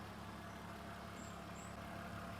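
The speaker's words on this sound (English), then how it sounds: "the engine is silky smooth. It's nice and quiet as it is actually running." A BMW E46 320Ci SE engine idles steadily at low volume, a smooth, quiet hum with no revving and no voices.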